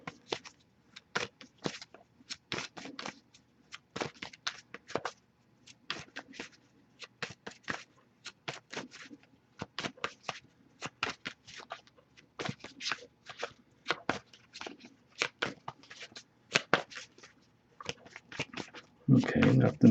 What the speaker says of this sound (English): but I'll shuffle a little longer, see if anything comes up.